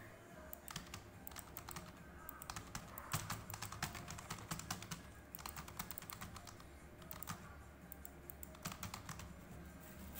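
Steady typing on a computer keyboard, dense clusters of key clicks in bursts across the whole stretch over a low background hum, no talking.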